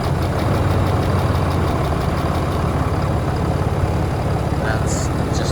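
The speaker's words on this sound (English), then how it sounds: "I just wanted you to hear a cold start on this thing" A 2019 Ram 3500 with about 430,000 miles and suspected hydraulic lifter trouble sits after a cold start, its engine settling into a loud, steady low idle with faint clacking throughout.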